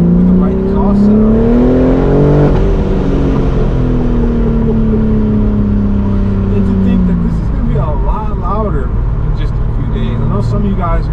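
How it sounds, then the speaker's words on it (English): A BMW M4 G82 with a manual gearbox and its S58 six-cylinder breathing through a full titanium exhaust revs loud and close, the engine note climbing and falling in smooth sweeps, with a few sharper throttle blips near the end. "the S58 is a proper sounding car"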